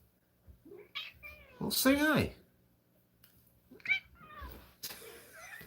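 A cat meows several times close by, drawn-out rising and falling cries with one loud yowl, between short bits of a person talking softly.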